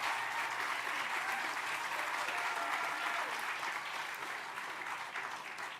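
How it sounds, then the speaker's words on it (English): Warm applause from an audience at a veterans' honoring event, steady dense clapping from a large crowd that holds strong throughout and tapers slightly near the end. "Give him a warm applause"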